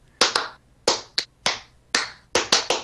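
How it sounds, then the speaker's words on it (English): A few people clapping in irregular bursts, eight or so sharp, close claps spaced unevenly, with no talking. "Stop fucking clapping."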